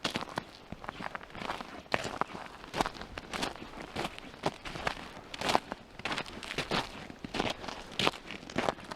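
Footsteps crunch one after another across frozen, ice-crusted snow at a mountain snow camp after a below-freezing night, each step a close, crisp crackling crunch in a steady walking rhythm.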